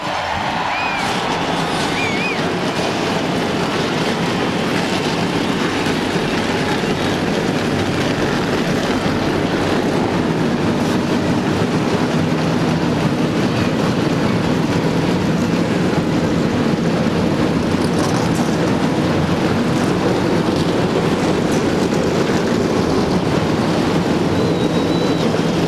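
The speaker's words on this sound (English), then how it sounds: "Gentlemen, start your engine." Stock car engines starting up at the 2001 Sharpie 500 NASCAR race, a broad, loud, steady roar of many engines filling a grandstand setting, sustained throughout with no talk.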